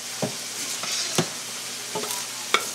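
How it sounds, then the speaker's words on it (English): Sharp cheddar being stirred into hot macaroni, with a soft continuous sticky, sizzling texture and a few light spoon scrapes at irregular intervals. "And I'm gonna stir that around"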